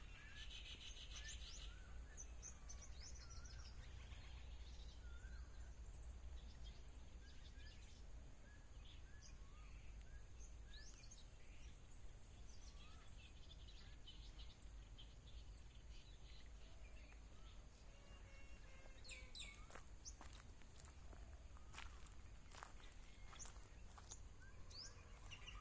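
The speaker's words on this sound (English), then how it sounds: "Lots of bird song, as you can tell." Birds sing and chirp faintly and sparsely in a garden in northern Thailand under rain trees, with a steady insect buzz and a low background hum throughout.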